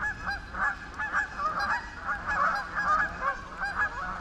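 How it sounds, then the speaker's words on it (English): About a hundred geese honk nonstop on a pond that is starting to melt, a dense, overlapping chorus of calls at steady loudness throughout. "There's got to be about 100 geese out here."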